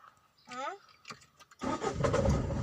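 A Tata Indica car engine cranks and starts, settling into a loud, steady idle that fills the last second of the clip after a few short sounds and a voice.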